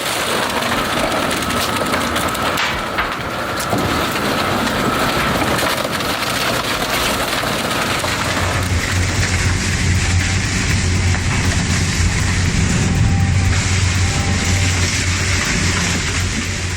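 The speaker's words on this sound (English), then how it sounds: "Yet this shredder slices through like butter." An industrial shredder chews through a tire of vulcanized rubber and steel wire, a loud continuous grinding and crunching that grows heavier and deeper partway through.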